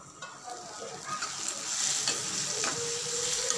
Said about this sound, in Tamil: மூடி வச்சு திறந்து திறந்து வதக்கி விடலாம்.